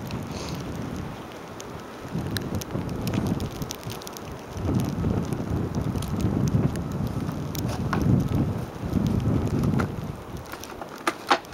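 Wind buffets a camera outdoors in cold snowy weather beside a Honda snow blower, producing low rumbling gusts that swell and fade, with scattered light ticks and taps close to the microphone.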